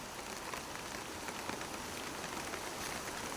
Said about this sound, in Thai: ฝนตกหนักนะทุกคน